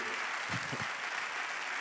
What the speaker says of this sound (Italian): un applauso a Angelo Orlando e alle sue follie